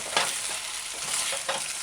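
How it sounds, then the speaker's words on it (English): Chopped onions and fish pieces being gently stir-fried over medium-low heat, a soft continuous sizzle broken by a few scraping stirs of the utensil against the pan. "Add the onion, the chopped onions, and just gently stir fry"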